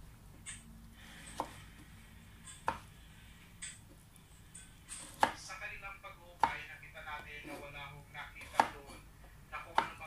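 A knife slices vegetables for pork sinigang on a cutting board, with about a dozen crisp, close chops that come at an uneven pace over a quiet room.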